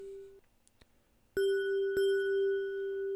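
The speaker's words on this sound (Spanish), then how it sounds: "Es la misma campana, simplemente con un pequeño retardo." A bright bell tone rings out, struck twice in close succession, each strike sustaining a clear ringing pitch, with the same bell arriving slightly later in one stereo channel than in the other; a softer tone precedes it.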